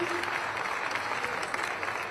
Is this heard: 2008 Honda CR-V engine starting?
no